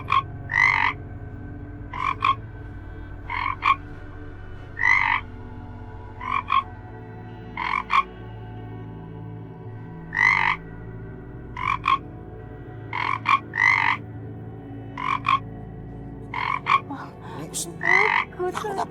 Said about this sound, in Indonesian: Bang, itu pasti kodok.